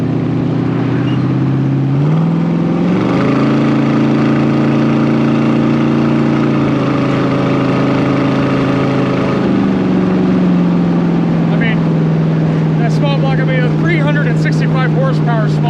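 A 365-horsepower small-block V8 in a 1966 Shelby Cobra replica, a lightweight fiberglass car, pulls hard from close by, its loud deep rumble climbing through shifts before settling into a steady cruise under faint talk.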